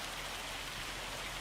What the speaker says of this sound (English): Oh no, it is hail. It is hail.